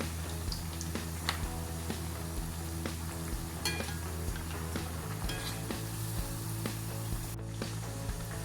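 Poricha pathiri, a Malabar fried snack shaped into stars, flowers and rounds, fries in hot oil with a quiet, steady sizzle and small crackles, plus occasional light clinks of a utensil, with no talking.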